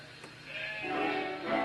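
A sheep on a model railroad layout gives a single close bleat, a wavering nasal cry that swells and trails off over about a second, heard alone without talk.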